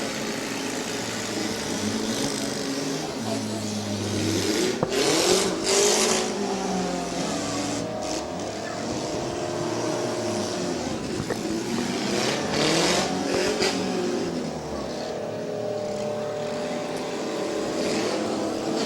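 Demolition derby cars at the Portage County derby revving and roaring around the arena, engines rising and falling in repeated surges with crowd and crash noise mixed in, loud and continuous.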